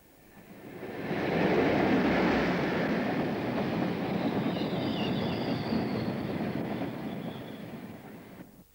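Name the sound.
freight train of empty wagons passing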